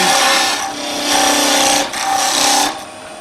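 A skew chisel cutting V-grooves into wood spinning on a lathe, giving a steady broadband scraping hiss that swells and eases in repeated passes, close and loud with no talk.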